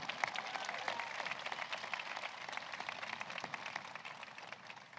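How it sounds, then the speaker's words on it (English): A round of applause for a speaker at a bill-signing event for the CHIPS and Science Act, steady crowd clapping throughout, somewhat distant and even, with no voices over it. "Please, another round of applause for our amazing speaker."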